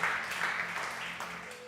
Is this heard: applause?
yes